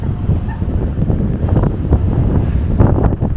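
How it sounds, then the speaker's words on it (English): Strong wind gusts into the microphone on the square in front of Cologne Cathedral, a steady loud rumbling roar that swells and eases, with no clear voices. "Now the wind is picking up again."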